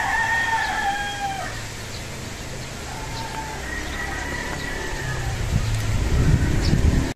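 A Sweater gamefowl rooster crows several times in drawn-out calls, with quieter answering crows and clucks from other birds at a farm, then a low rumble near the end.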